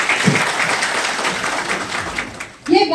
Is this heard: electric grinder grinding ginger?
no